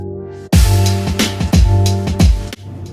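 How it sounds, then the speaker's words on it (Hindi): Loud dhol drumming with strong, booming low beats struck in bursts, dense and continuous with a brief pause near the start, sounding close and busy. "क्या आप ये ढोल बाजे की आवाज सुनाई दे रही है?"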